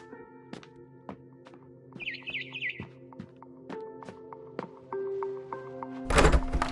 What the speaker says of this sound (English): Then I heard chirping outside my window.